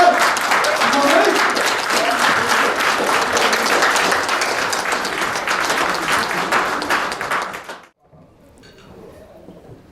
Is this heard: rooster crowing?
no